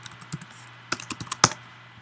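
Keystrokes on a computer keyboard, a scattered run of distinct clicks with a brief burst near the end, close and fairly quiet with no talk.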